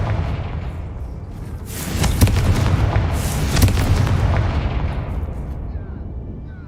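The Confringo spell in Hogwarts Legacy sets off booming fiery blasts, two heavy bursts in a row over a rumbling roar that fades out at the end.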